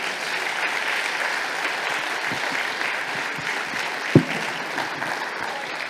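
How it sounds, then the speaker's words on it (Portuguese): Sustained applause from a large church congregation fills the whole stretch, an even wash of clapping with one louder thump partway through. "Dá uma salva de palmas ao Rei da Glória"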